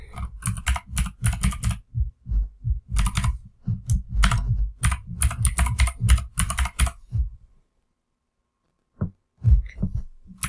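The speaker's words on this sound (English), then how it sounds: "So I'm just going to write an email address here." Rapid, close clicking of a computer keyboard as an email address is typed, a continuous burst of keystrokes for several seconds, then a pause and a couple more taps.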